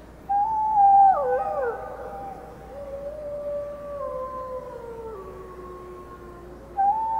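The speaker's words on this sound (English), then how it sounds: "There's a lot more howling." Wolves, including an adult female, howl in long, sliding tones that overlap and rise and fall, clear against a quiet background, with a fresh howl starting near the end.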